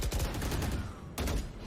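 Gunfire in the tactical shooter Valorant, aimed at a Prowler on the map Split: dense bursts of rapid shots, a short lull, then another burst, moderately faint with no talk.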